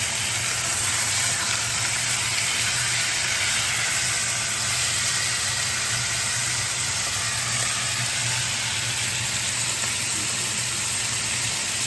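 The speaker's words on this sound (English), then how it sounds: "Now we just have to make sure it's seared on both sides and all sides of the steak." Steak searing in a hot pan, a loud continuous sizzle and hiss that holds steady from start to finish, close up and with no one speaking.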